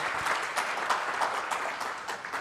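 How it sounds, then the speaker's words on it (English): A conference audience gives a round of applause for a nutrition talk speaker, continuous even clapping throughout. "Can we get a round of applause for Francesco?"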